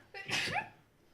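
A person sneezes once, a short sharp burst with a quick intake before it, fairly close but not loud in an otherwise quiet room.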